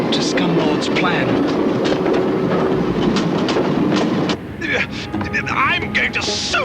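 A train rumbles steadily along a railroad with a rattling, clattering roll, loud and continuous; it fades near the end under other game-style sounds, with no speech over it.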